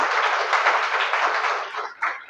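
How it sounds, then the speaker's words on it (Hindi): Audience at a one-day spoken English and personality development training session applauding loudly, a dense sustained burst of clapping that thins out toward the end with a final few claps. "एक बार ताली बजाइए जोर से अपने लिए।"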